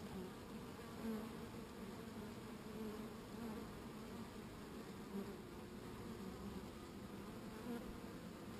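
Honeybees crowd around an Asian hornet to cook it with body heat, giving a steady, dense colony buzz that stays close and even throughout with no voices.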